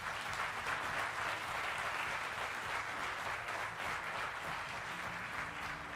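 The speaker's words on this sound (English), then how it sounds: "please put your hands together for this outstanding band of musicians here on stage tonight" Sustained applause from a crowd, steady and dense clapping that fills the whole stretch without pause.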